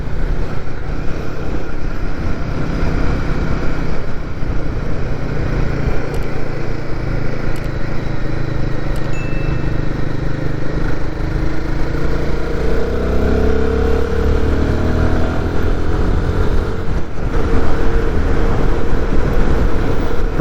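A Royal Enfield Guerrilla 450 motorcycle ridden on cool damp roads, its engine droning steadily for the whole stretch under heavy wind rush, rising slightly in the latter half, with no talking.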